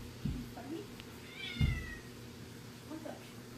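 A pet cat meows a few times up close, short rising calls spaced through a quiet room, with faint voices around it.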